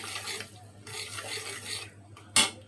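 Cumin and garlic paste being stirred and sautéed in a pan, with repeated scraping, rasping strokes in a loose rhythm, close and moderately loud, ending in one sharp clink of utensil against pan.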